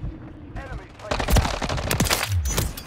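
Rapid machine-gun bursts and gunshots crackle loudly in a Call of Duty video game match, with a voice shouting over the fire.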